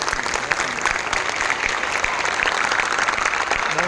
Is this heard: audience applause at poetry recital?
yes